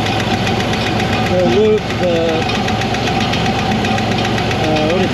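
An early 1960 Corvair engine, revived after sitting in a field since 1991, idles slightly high with a steady, close mechanical throb. Someone talks over it throughout.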